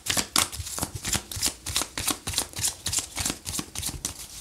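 Tarot cards are shuffled by hand for a reading, a close, loud, rhythmic series of riffling card slaps repeating steadily about three times a second, alone without talk.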